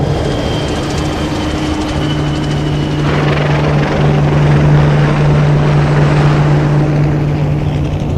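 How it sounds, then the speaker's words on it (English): Military helicopter flying overhead in Okinawa, a loud continuous rotor drone with a steady low hum that swells slightly midway, alone without talk. "The sky is full of planes and helicopters."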